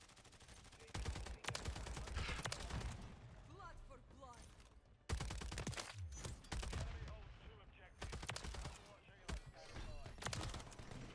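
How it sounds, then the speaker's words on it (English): Call of Duty MW3 gunfire from an AMR9 SMG with double barrel setup in hardcore mode comes as rapid full-auto bursts in three separate volleys, with short quiet gaps and mechanical clatter between them. "he shot me through the wall"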